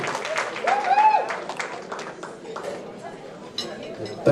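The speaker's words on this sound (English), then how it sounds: "Clap for this man." Applause and cheering ripple through mourners at a eulogy and tribute service, mixed with voices and shouts, strongest early then easing to scattered clapping and crowd chatter.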